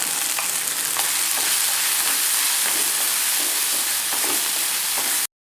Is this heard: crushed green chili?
yes